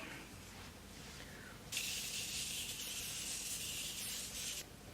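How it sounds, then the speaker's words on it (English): A single continuous spray of Morphe makeup setting spray onto a face hisses for about three seconds, close and soft, in an otherwise quiet room. "I'm going to spray my face first with the Morphe setting spray"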